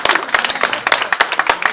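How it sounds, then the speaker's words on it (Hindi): An audience claps in dense, loud applause to honour martyrs at a Dehradun gathering, with sharp overlapping hand claps continuing steadily throughout. "एक बार जोरदार तालियां उन शहीदों के सम्मान में बजाइए साहब"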